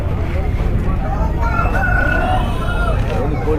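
A country rooster crows at a busy Sunday poultry market in Ongole, a drawn-out crow rising over a dense, loud babble of crowd noise and clucking birds nearby.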